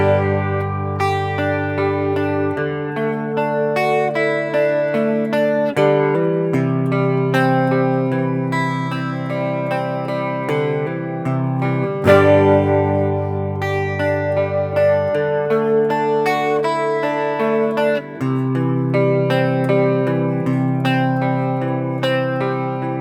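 An electric guitar plays the intro of a song, with sustained, ringing chords that change at a steady pace and sound loud and close, with no talking.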